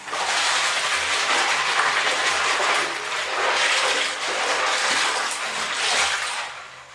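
Water runs steadily from a tap over bulk Lego pieces being washed, a broad continuous splashing hiss that swells and eases in waves before tapering at the end.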